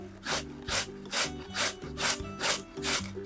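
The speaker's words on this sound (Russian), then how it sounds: "Кабачки натираю на крупной терке." Zucchini rubbed down a coarse grater in rapid repeated rasping strokes, about seven even scrapes close up, each a bright grating swish with a soft knock as the vegetable returns, no talking.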